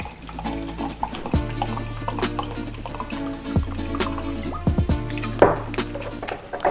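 Unflavored sparkling water pours into glasses for a blood orange mojito mocktail, a steady close liquid fill with bubbly trickling and small drips running throughout.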